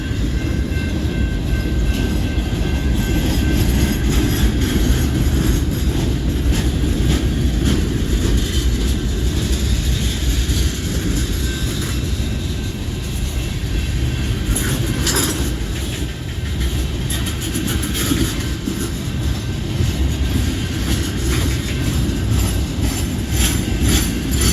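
A train rolls past on railroad tracks in a loud, continuous rumble, with rattling wagons and faint wheel squeals running steadily for the whole stretch and no voices.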